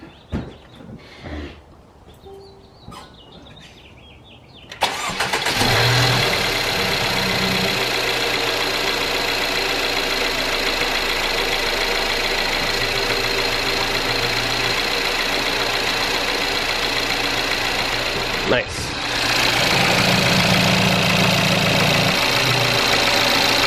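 After a few faint knocks and a brief word, a 2015 Mercedes W205 2.0 turbo engine with a new drive belt, tensioner and idler pulley cranks and catches at once, then idles steadily and loudly without whining, with a short surge near the end.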